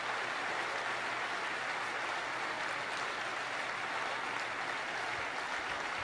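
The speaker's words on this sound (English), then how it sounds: "just want to give them another big round of applause" Steady broadband applause from a large audience at the Google I/O 2012 conference, a dense continuous wash of clapping without pauses, somewhat distant and even in level.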